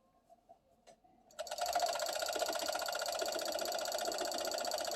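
A sewing machine stitching across sweater fabric for a romper starts up after a few faint clicks and then whirs in a fast, steady, close mechanical rattle that runs to the end, with no talking.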